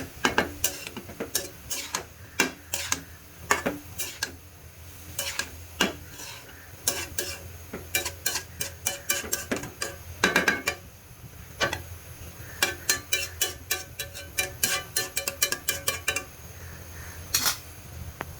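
A spoon stirs bottle gourd fry in an uncovered pan, producing a steady run of sharp scraping clicks and taps against the metal, irregular but frequent, close by and alone.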